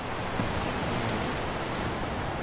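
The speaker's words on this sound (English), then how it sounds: "It's really nice to sit on the terrace because you can hear even the sound of the breaking waves." Waves break near a Nordic sauna terrace, a steady, dense roar of surf that carries without pause and with no one speaking.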